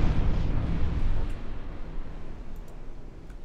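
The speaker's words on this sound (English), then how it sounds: "All battleships, give me broadsides. Heavy cruisers, give me broadsides." Heavy naval gunfire from battleship broadsides in the Ultimate Admiral Dreadnoughts game, a dense continuous rumble of booming shots layered together, loud and sustained, with a few sharp distant cracks near the end.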